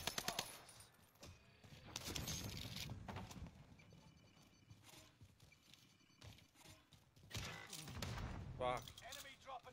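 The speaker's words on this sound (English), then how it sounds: "Jen, he's shooting." Gunfire in a Warzone-style video game shooter, with bursts of shots and clattering, scattered effects mixed under excited voices talking over game sounds.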